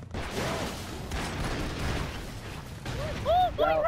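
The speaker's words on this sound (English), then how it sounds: "Wow, some explosions are happening." Explosions and bursts of gunfire from the video game Broforce make a busy, crackling din, with sharp synthetic whistles rising near the end. A player talks over the game sounds.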